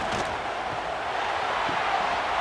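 Steady roar of a stadium crowd in a college football video game, Kentucky against Tennessee, a constant broad wash of cheering noise without pause for a couple of seconds.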